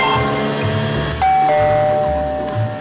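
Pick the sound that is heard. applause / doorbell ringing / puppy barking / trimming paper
doorbell ringing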